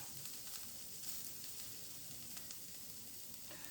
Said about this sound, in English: Oh, you can hear that sizzle, right?